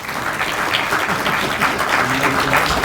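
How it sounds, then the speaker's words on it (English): Warm applause from a seated audience welcoming a presenter at a course event, dense continuous clapping that holds steady and fills the room without any talking. "So please give him a warm round of applause and welcome him."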